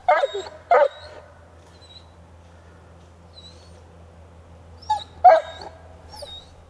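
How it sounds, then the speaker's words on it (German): A dog barks in short bursts at a badly injured deer in a forest: two quick barks, a long quiet stretch with a faint low hum, then another close pair of barks and some fainter yips. "Ibses Bellen lenkt das schwer verletzte Tier ab."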